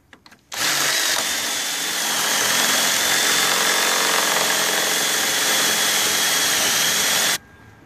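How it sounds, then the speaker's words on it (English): A power drill whines loudly and steadily for about seven seconds, starting and stopping abruptly, with a grinding edge as it bites through metal, drilling a half-inch hole for a spotlight post mount on a Jeep JK Wrangler. "So we're going to drill in."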